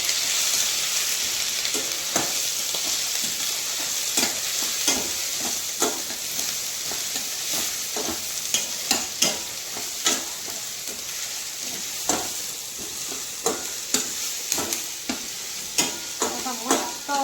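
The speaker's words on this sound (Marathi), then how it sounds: "रंग असा पूर्ण ब्राऊन कांदा होईपर्यंत भाजायचा बरं का" Onion and ginger frying in a pan until brown for pav bhaji, a continuous close sizzle broken by regular scrapes and knocks of a spatula stirring.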